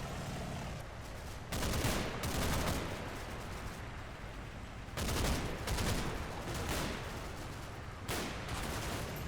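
Gunfire in the World War II strategy game Combat Mission: Battle for Normandy, with repeated rattling automatic bursts and sustained volleys at moderate distance, dense crackling shots filling the whole stretch with short lulls between bursts.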